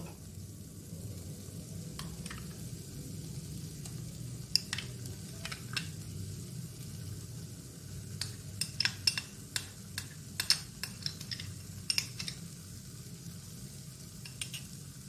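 Masala for an egg korma fries and sizzles steadily in a pan while a spoon stirs it, with scattered sharp scrapes and clinks of utensil against metal over the continuous low sizzle, close and moderately loud, no talking.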